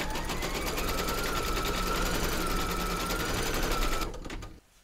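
An embroidery machine stitches fabric held in a hoop for a stuffed bunny, with a rapid, even rattling that runs steadily at close range before cutting off near the end.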